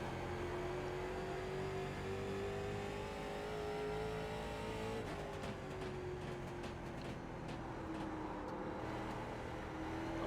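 Race car engine from the NASCAR iRacing Late Model Series sim, droning loud and steady as the pitch climbs slowly, dips around the midpoint, then rises again under a hint of throttle variation, with no talk.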